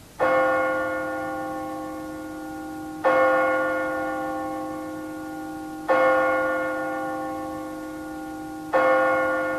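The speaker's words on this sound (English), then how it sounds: "he's carried off to his burial in Westminster Abbey as the funeral bell tolls" A deep funeral bell tolls slowly and alone, four resonant strikes about three seconds apart, each ringing out and fading before the next.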